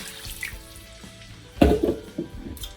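Water poured into a cooking pan of chopped garlic for Salisbury steak gravy, a brief splashing gush that swells partway through and then trails off in a few smaller splashes, alone with no talk.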